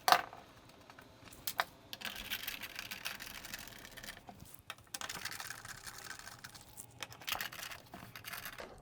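Wood screws being backed out of the amp panel on a 1957 English Electronics Tonemaster (Valco) cabinet, heard as close, quiet scattered clicks, ticks and small rattles of a driver and screws, with no talk.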